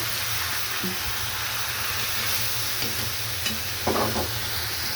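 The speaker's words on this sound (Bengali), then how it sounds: "এই তেজপাতা দারচিনি এলাচ লবঙ্গ এগুলো দিয়ে দিচ্ছি এখন কষিয়ে নিচ্ছি" Onion sautéing with bay leaf, cinnamon, cardamom and cloves for khichuri gives a loud, steady sizzle and hiss, with a few soft scrapes of stirring near the end.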